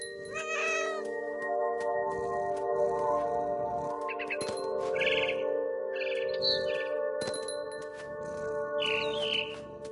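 A bird chirps in What Remains of Edith Finch, with quick bright high calls scattered through the moment over a sustained droning musical bed, with a cat meowing and yowling close by.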